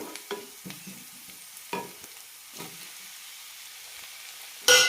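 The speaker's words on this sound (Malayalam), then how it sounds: "തക്കാളി നന്നായി വെന്തുടയണം, അതുവരെ വഴറ്റിയെടുക്കാം" Tomatoes and onions sautéing in a pan, scraped and stirred in several distinct bursts against a soft background sizzle, ending in a sharp, louder clatter.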